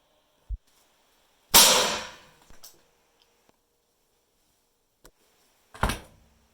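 Mini air cannon firing a potato, a sharp burst of air followed by a few separate thumps and knocks, close and loud against near silence.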